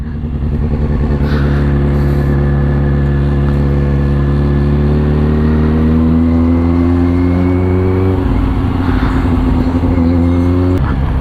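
Kawasaki Z800 motorcycle engine running steadily while being ridden, its harmonic drone rising in pitch as it accelerates, easing off briefly, then climbing again; loud and close throughout, with no talking.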